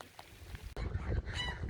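Ducks and geese being let out of their shelter toward a pond, a burst of close, loud honking and quacking after a quieter opening with scattered calls.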